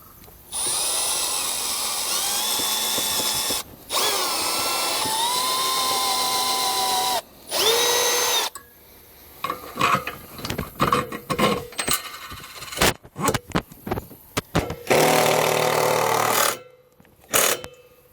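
A power drill drives bolts into the support beneath a Jif Marine floating dock lift ladder, in several whining bursts that rise in pitch, with clicks and clattering handling sounds between them.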